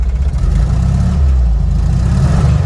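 A Volkswagen bus engine idles close by with a low, steady, slightly uneven rumble and a faint rhythmic chug.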